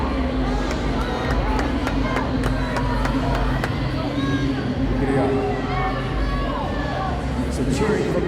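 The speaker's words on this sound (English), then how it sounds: "Some cheering from their fans and the crowd" Fans and family cheer at a team fitness competition, a loud, continuous hubbub of shouting voices with a commentator talking over it throughout.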